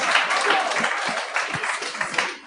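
A live audience at a French-language podcast taping applauds briefly, the clapping uneven and moderately loud, with voices mixed in beneath it.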